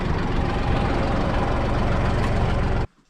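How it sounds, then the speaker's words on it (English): A tractor engine idles in cold weather with a steady low rumble and rough knocking pulse, then cuts off abruptly near the end. "Tractor ain't liking the cold."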